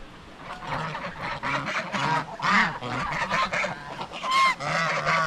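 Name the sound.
geese honking on a farm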